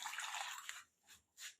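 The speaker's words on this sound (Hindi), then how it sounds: "अब इसके अंदर हम 2 गिलास पानी शामिल करेंगे" Water is poured from a glass into a cooking pot of palak gosht, a steady splashing hiss followed by two shorter pours, faint and close.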